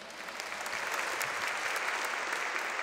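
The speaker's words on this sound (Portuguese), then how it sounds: "Uma salva de palmas." Sustained applause from a congregation at a Sunday Catholic Mass, dense and even clapping throughout, moderately loud with no speech over it.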